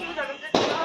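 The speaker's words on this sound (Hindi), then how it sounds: "हमारी चाची चला रही है बीड़ी बम।" Bidi bomb firecracker exploding during Diwali celebrations, a single sharp bang cutting in after voices, close and loud, followed by a brief noisy tail.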